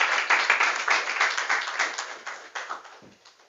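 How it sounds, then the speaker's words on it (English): A school debate competition audience claps in a rhythmic, fairly even beat, a modest group applause that fades gradually over a few seconds. "Continue to clap while the person."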